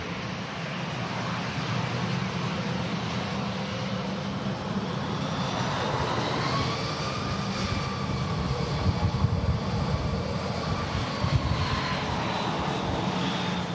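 EasyJet airliner on final approach into Manchester Airport, a steady loud jet engine roar with a slowly shifting whine throughout, holding near and constant as it passes, with no voices.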